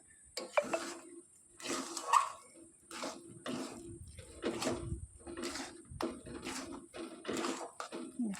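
Flour and pumpkin mixture stirred in a pan, with a spoon giving repeated soft scraping strokes and light clinks against the metal in an irregular rhythm, close and fairly quiet.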